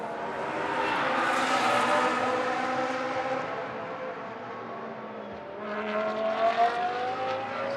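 A Ferrari GT race car hurtles past on the track during Blancpain Sprint Series free practice in Moscow, its engine note rising loud then fading, with a second surge of engine sound near the end.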